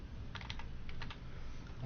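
Keys tapped on a computer keyboard during a Photoshop session, a few quiet clustered clicks under a steady background hiss.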